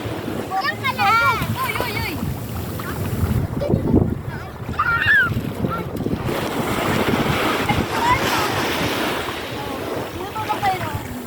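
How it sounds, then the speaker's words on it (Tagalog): Strong sea waves roll and wash at a beach, with wind buffeting the microphone and surf noise rising and falling; children's voices and brief shouts sound over the water. "Malakas daddy alon."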